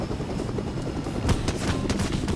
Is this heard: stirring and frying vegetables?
no